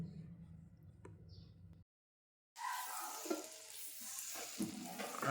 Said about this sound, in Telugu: స్టిక్ పెనం మీద వేస్తున్న దోశ